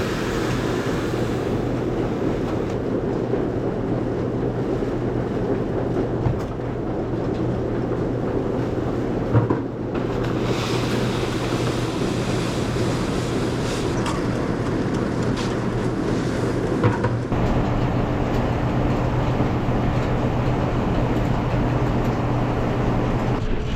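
A farm vehicle on a dairy farm drives out to the commodity barn, its engine a steady, loud, continuous rumble with a constant low drone and rattling throughout, no talking.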